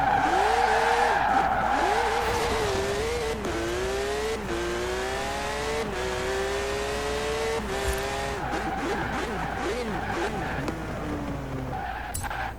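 A 2006 Subaru WRX STI rally edition races through a street circuit in a video game, its engine revving steadily up and down through gear changes while tires squeal and skid, loud and continuous.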